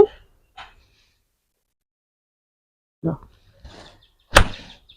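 A few short, sharp pops and snaps as ground cherry fruits are popped close up, separated by silence, with a louder crisp pop near the end.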